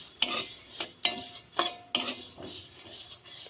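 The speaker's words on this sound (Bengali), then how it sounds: "বুচকি দানা বেশিক্ষণ লাগবে না তিন মিনিট মতো ভাজলে হয়ে যাবে" Whole spice seeds fry on low heat in a pan for a homemade fish masala. A utensil stirs and scrapes them in repeated rhythmic strokes, close up, over a faint sizzle.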